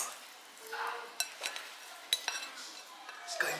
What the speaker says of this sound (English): Stir and mix.